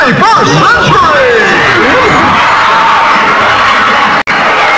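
Cartoon crowd cheering on a stage, a dense, steady roar of shouting and whooping voices held close and loud throughout, with excited calls rising and falling above the babble.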